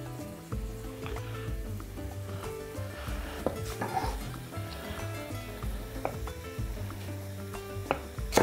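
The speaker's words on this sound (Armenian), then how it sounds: "Մյուս բաղադրիչը, որը կառաջարկեմ տապակել, կանաչ սոխն է, սխտորը։" Chopped green onion and garlic fry in a pan while cooking dolma, a quiet, continuous sizzle broken by light clinks of a utensil against the pan.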